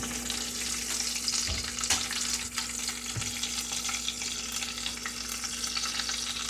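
Potatoes fry in a pan with a constant close sizzle, crackling steadily, while a few sharp knocks and scrapes of a fork stand out against it.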